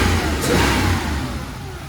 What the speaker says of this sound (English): It's been running for a few minutes now, still idling nice and steady. When I rev